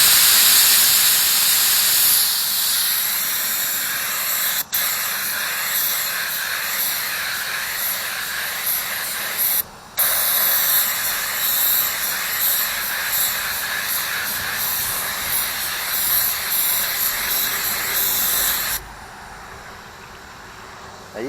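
An air spray gun shoots epoxy onto a plastic pony wheel with a steady, loud hiss that runs almost the whole time, cutting out briefly twice before dropping to a quieter hiss near the end.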